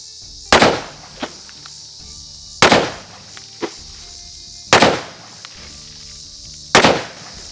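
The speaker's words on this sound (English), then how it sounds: "let's let Caleb shoot it and see what he thinks" Four loud, sharp reports from a Ruger Blackhawk revolver firing heavy 45 magnum handloads with a 315-grain bullet, spaced about two seconds apart, each with a ringing decay, followed by faint handling clicks.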